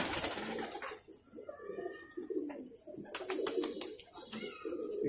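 Desi girebaaj pigeons keep up a soft, rolling coo throughout, with a few brief higher chirps and clicks breaking in near the end; a voice or two may murmur faintly behind the birds.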